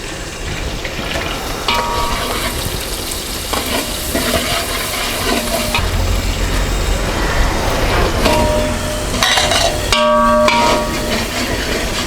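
Onions frying in hot oil in a pan for Chettinad chicken biryani, a loud steady sizzle close by with stirring scrapes and clinks throughout and no talking.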